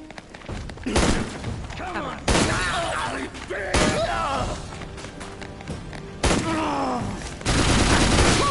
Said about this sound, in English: Here's a machine gun. That's what it's called, a machine gun.